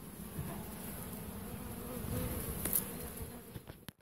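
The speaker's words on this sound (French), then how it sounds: "il y a toujours ce petit groupe d'abeilles là" Honeybees buzzing around an open hive, a dense continuous hum at close range, fairly soft and steady, ending with a few light knocks.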